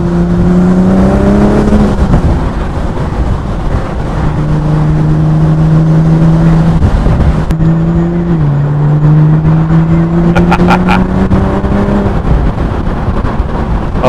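A Morgan Plus Six convertible sports car drives with the top down. Its engine note is loud and close, rising and falling through several gear changes, with brief higher rasps toward the end.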